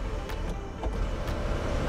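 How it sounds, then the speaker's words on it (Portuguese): A steady electric sunroof motor whir hums inside a Chery Arrizo 6 for a couple of seconds, with a few light clicks, close and moderately loud. "Comando do teto solar"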